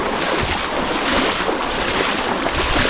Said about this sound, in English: Hear the ocean roaring.